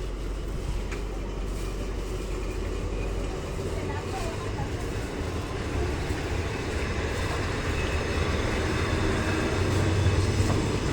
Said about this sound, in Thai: เดี๋ยวจะจอดสถานีเจ็ดเสมียนและสถานีบ้านกล้วยเป็นสถานีถัดไปนะครับ